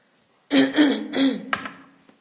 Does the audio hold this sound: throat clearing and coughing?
yes